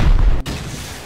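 Explosions during a base raid in the video game Rust, a heavy booming rumble that cuts off abruptly, followed by a quieter lingering tail.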